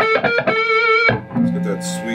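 A 1988 Gibson Historic 1959 reissue Les Paul Standard played through its neck pickup, giving a short run of sustained, slightly overdriven notes and then a lower, warmer ringing phrase.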